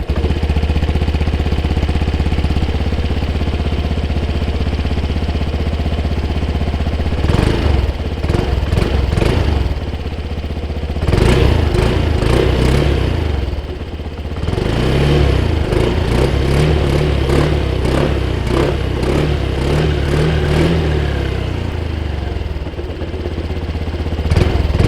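Honda Vision 110 scooter from 2023 idling steadily up close, then several short throttle blips rise and fall, with a longer run of repeated revs in the middle and the engine settling back to idle between them.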